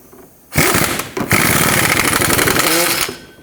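A ratchet snugs the bottom alternator bolt on a 2007-2010 Chrysler Sebring, giving a loud, close, rapid buzzing whir that runs for about two and a half seconds with one brief pause, then stops.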